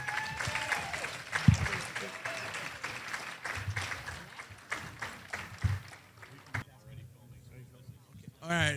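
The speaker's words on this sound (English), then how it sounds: "Give them a round of applause." Audience applause from a gathered crowd at a community talk, a broad clapping wash that swells around the middle and carries under scattered voices before fading near the end.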